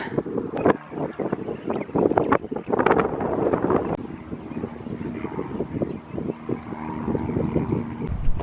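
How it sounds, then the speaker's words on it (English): Strong wind buffets the microphone on a steep coastal hill hike in San Luis Obispo, giving a loud, continuous rumbling roar with gusty surges throughout and no talking. "It just keeps getting windier and windier, which makes the audio quality so bad."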